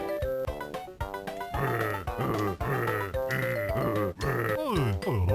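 Repeated bleating sheep calls sound in the Banjo-Kazooie: Grunty's Revenge video game, warbling and loud over continuous game music, one cry following another with no talk.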